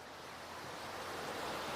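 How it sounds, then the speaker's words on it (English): Water flowing steadily close by outdoors, a soft continuous rushing wash that holds at a faint, even level throughout. "Can you guys hear the water?"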